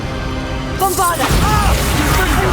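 A Bombarda blasting spell goes off in Hogwarts Legacy, with a sudden crashing boom partway through followed by rumbling debris and spell effects amid busy game audio.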